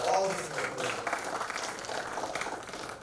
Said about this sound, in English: So big round of applause for all these people